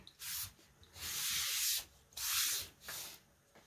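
A sponge dabs and rubs paint onto a Readi-board foam core panel, giving four soft scrubbing swishes of about half a second to a second each, close and quiet with brief pauses between them.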